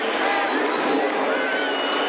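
Sellout football stadium crowd at a Bears at Cowboys Thanksgiving game, a dense, continuous roar of cheering and shouting.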